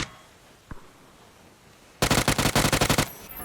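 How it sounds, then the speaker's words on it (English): A UMP submachine gun in the video game PUBG fires a loud, rapid burst of about a dozen close shots after a single faint distant pop, with no voices. "Almost no recoil on that UMP."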